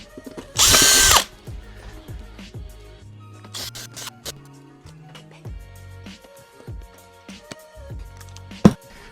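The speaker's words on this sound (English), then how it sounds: "It's just the bag we have to drill out." A power drill bores out pop rivets on a Rugged 4x4 awning bag, one loud whirring burst near the start, then quieter short drilling spurts, clicks and clatter.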